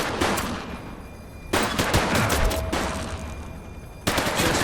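Bursts of rapid gunfire in a police shootout in The Precinct, several loud volleys broken by brief lulls, with rattling automatic fire under a constant noisy background.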